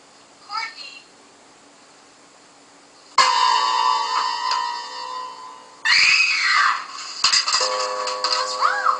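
Shrill, sustained screams of young women in a horror film scene from The Slumber Party Massacre (1982) break in suddenly after a quiet stretch, with a second loud, wavering outburst following a few seconds later.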